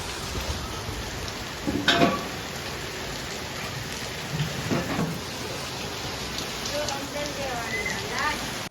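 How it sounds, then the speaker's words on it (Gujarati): Steady rain pours onto surfaces during a windstorm, with a few louder knocks and clatters standing out from the constant wash. "વાવાઝોડા સાથે વરસાદ આવી રહ્યો છે સિદ્ધપુરમાં"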